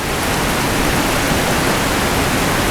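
Heavy downpour pounding steadily during a storm with flooding outside a house, a dense, loud, unbroken roar of rain that stays constant throughout with no voices.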